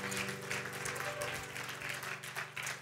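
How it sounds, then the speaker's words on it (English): A worship congregation claps for Jesus in praise during a church service. Dense, continuous clapping sits over a sustained musical drone and stays moderately loud throughout. "a hand clap of praise."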